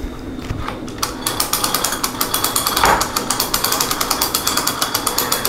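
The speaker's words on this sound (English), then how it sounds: "We're going to lock down the tailstock and we're going to start cranking." A mainspring winder is cranked by hand with its tailstock locked, giving a loud, fast, even run of ratcheting clicks that continues for several seconds.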